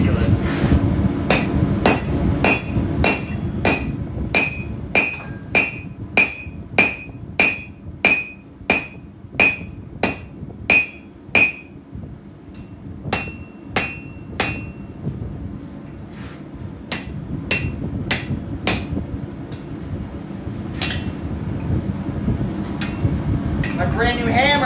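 A new hammer strikes metal while knives are forged, sounding a long run of sharp ringing blows at a steady pace, a pause, then more strikes over a low background hum.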